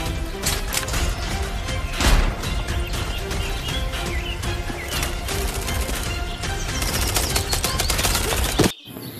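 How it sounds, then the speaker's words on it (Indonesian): Rapid, continuous bursts of toy-gun firing, loud and close, rattling steadily for several seconds before cutting off abruptly. "Wah, ada mainan tembak-tembakan"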